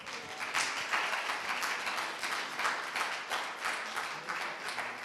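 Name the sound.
audience applause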